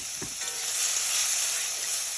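Prawns frying in hot oil with turmeric and black cumin, a steady close sizzle with a brief stir near the start, for a lau chingri dish.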